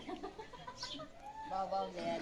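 Faint clucking from village chickens sits beneath a nearby voice talking, with a few brief bird calls over soft background noise.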